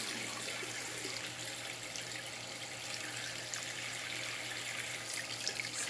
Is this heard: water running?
yes